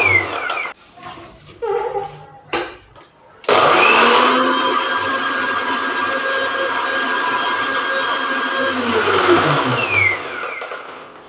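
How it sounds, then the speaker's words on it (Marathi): A few short bursts and clunks give way to a loud, steady electric mixer whirring as it grinds cooked dal and jaggery into puran, humming continuously for several seconds before winding down. "ते पूर्ण एकजीव करून झाल्यावरती मिक्सरमध्ये मी असं बारीकसर वाटून घेतलेलं आहे"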